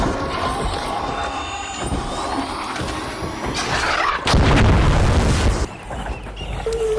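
A Deadline mine explodes on a Bombardier machine in Arc Raiders, a loud heavy boom that rumbles for about a second after a stretch of whirring and clattering combat noise.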